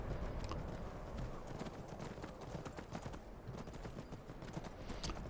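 Horses' hooves clip-clop in Skyrim, a quick irregular patter of hoofbeats on the ground, close and continuous over a dense wind-like rush of outdoor ambience.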